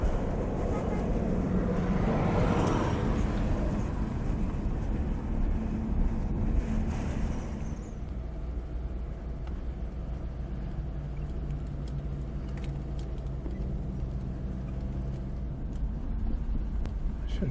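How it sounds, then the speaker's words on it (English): Heavy trucks pass steadily on Highway 177 near Burns, Kansas, a broad continuous engine and tire roar that swells loudly in the first several seconds, then settles into a lower, more distant drone. "Coming across 177 here, all you see is trucks and more trucks."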